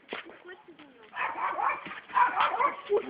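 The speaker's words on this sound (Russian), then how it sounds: "Видите, що собака гавкає?" A dog barks several times from a moderate distance on a street, with people talking over much of the clip.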